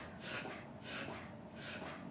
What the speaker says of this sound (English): my dog is acting. He's got that breathing, coughing thing. Sneezing.